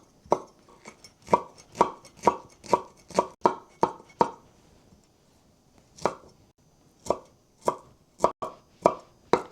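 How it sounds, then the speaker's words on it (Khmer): Dried mushrooms being chopped finely with a knife: a loud, close series of crisp thuds on a cutting board in a steady rhythm, a brief pause, then several more strikes in quicker succession. "ខ្ញុំកាត់វាឲ្យវាទូចបន្តិច"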